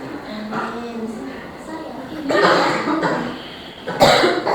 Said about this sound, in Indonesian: Kayaknya masih batuk nih.